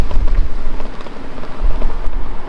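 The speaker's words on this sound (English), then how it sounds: "it's windy" Wind blowing outdoors, a loud buffeting rumble against the microphone with gusty low pulsing throughout, no talk.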